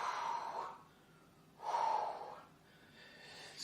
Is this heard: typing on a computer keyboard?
no